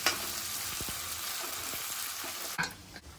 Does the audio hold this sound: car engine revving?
no